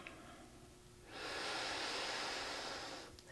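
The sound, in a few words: deep exhale during yoga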